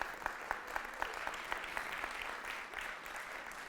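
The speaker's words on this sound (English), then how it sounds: "so applause for Megan, yeah." An audience claps for Megan at a talk, a fairly quiet, even patter of many hands with a few sharper claps standing out, heard from some distance.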